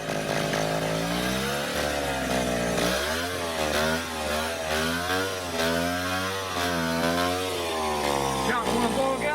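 Vintage Echo PB-202 backpack blower's small two-stroke engine running near, its pitch rising and falling with repeated throttle revs, loud and continuous.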